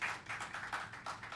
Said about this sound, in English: round of applause in the room, please